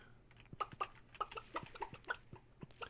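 Chickens in a coop in Stardew Valley cluck in a quick, uneven series of short bright calls, fairly near and clear with no talk over them.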